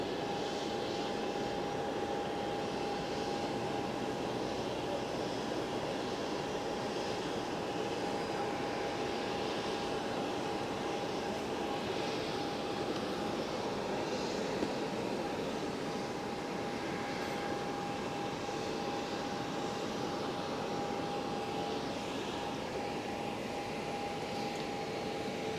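EasyJet jet airliner inbound at Geneva Airport, a steady distant jet engine drone with a faint whine holding throughout, no voices over it.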